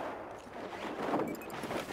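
Gunfire in a multiplayer shooter game at Pearl Market, a faint burst of rapid shots with some crackling impacts sitting low in the mix.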